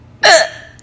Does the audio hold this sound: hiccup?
yes